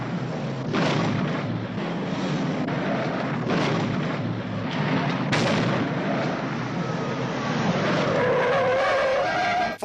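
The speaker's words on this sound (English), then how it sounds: "Ford Mustangs and Dodge Chargers burn rubber and reach speeds reportedly topping 100 miles per hour" Ford Mustang and Dodge Charger in a movie car chase roar and squeal their tires at high speed, with loud bursts of engine and skidding throughout and no voices.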